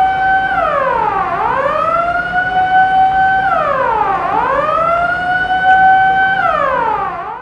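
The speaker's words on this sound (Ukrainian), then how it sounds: "сигнальним та голосовим сповіщенням пожежна машина сяк-так просувалася через щільні ряди припаркованих відпочивальниками автомобілів" A fire engine's wailing siren sweeps up and down in long repeating cycles, loud and close, while the truck edges through dense rows of parked cars in holiday traffic.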